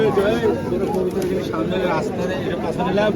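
Soft pigeon coos and bird calls mingle with nearby human chatter throughout at the Katakhali pigeon market in Rajshahi, the birds partly masked by the voices.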